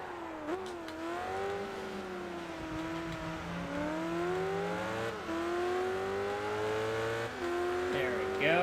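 A race car in Gran Turismo on PSP brakes, its engine pitch dropping through downshifts before climbing again. The steady, close engine tone plays alone with no talk.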